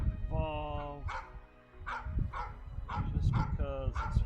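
A dog barks repeatedly nearby, sharp yips and barks arriving in uneven bursts with some whimpering, while a person talks over the barking.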